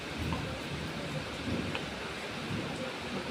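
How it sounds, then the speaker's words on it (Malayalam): Heavy rain falling outdoors at a home, a dense continuous hiss and patter of drops with a low rumble underneath, steady throughout. "നല്ല മഴയാണല്ലേ"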